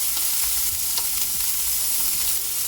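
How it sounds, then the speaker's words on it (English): Bacon sizzles and fries steadily in hot oil in a pan, with a continuous close crackle and a few sharper pops throughout. "this oil is just to fry my bacon"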